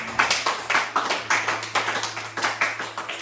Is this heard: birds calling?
no